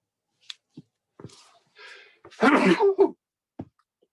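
One close, loud sneeze bursts out after a sharp intake of breath, surrounded by small clicks and soft breathy noises in a quiet room.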